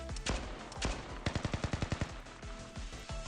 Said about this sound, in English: I could hear gunfire outside just now.